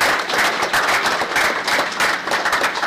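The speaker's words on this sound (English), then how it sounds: "let's give a round of applause" A full round of loud applause from an audience, thick continuous clapping that swells and holds steady for nearly three seconds.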